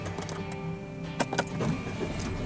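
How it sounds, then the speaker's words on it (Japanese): A V-type three-cylinder car engine idling steadily with a low hum, heard from inside or beside the car at moderate level with a few faint clicks and no talk. "V 型3気筒の音聞く？"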